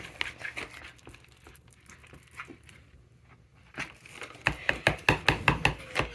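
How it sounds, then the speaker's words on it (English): Meatloaf mixture with shredded cheese is worked by hand in a bowl, starting with soft squelching and crinkling, then turning to a run of rhythmic, louder wet slaps and squishes close by. "we put a little bit of this shredded cheese in. Do some more mixing."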